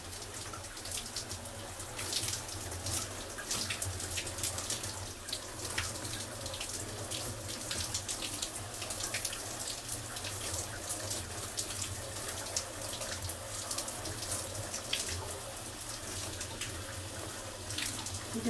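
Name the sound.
water running while rinsing hair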